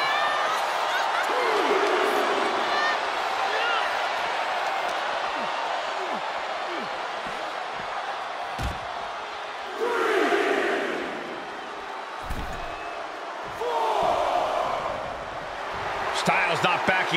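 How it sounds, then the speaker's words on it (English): Loud game crowd in a WWE 2K24 wrestling arena during a RAW episode in Universe Mode, a steady roar that swells into louder bursts of cheering several times, with commentary voices running underneath. "A deafening cheer from the WWE Universe is reverberating around us."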